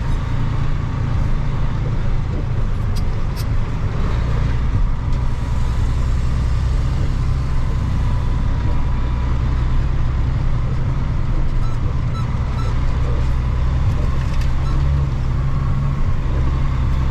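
An old truck hauling a load of wood on a dirt road rumbles steadily for the whole stretch, low and continuous, with faint rattles and bumps over the drone as it rolls along.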